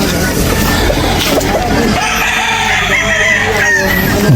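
Chickens and roosters on a gamefowl farm crow and cluck loudly and close, a long rooster crow rising over steady flock noise with faint voices in the background.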